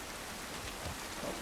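Steady rain in the video game The Last of Us Part 1, an even hiss of drops on surfaces with a faint low rumble, soft and continuous with no voices.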